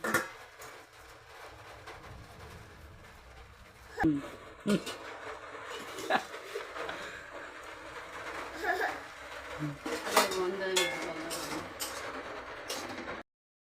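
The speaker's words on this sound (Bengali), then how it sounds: "তারপরে আমি এই থালাটা দিয়ে ঢাকা দিয়ে দেবো" A metal plate set down over a bowl inside a pan while baking a semolina cake, giving a few sharp clinks and clatters against a steady background hiss, with a voice speaking nearby.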